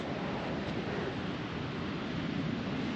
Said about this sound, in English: There's a little bit of wind